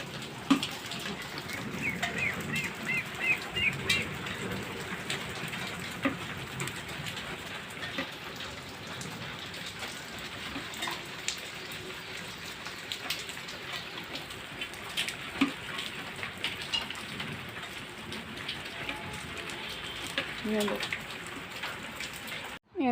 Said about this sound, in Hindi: ये देखें और बारिश अभी भी शुरू है